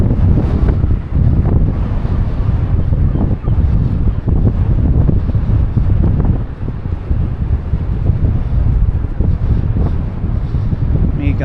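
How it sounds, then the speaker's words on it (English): Strong gusting wind roars loud and continuous across an open seaside promenade at Blackpool, buffeting the microphone throughout, with faint surf from the beach beneath it. "With it being as windy as it is"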